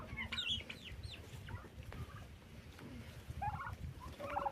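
Chickens and turkeys cluck and gobble in a farmyard, scattered calls rising and falling over a soft background rustle, fairly quiet and at moderate distance.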